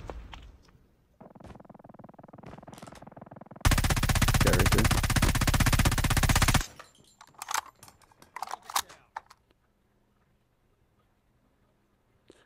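Gunfire in the Call of Duty: Mobile video game: a loud, sustained burst of automatic fire lasting about three seconds, preceded by a low rumbling ambience and followed by scattered clicks and thuds.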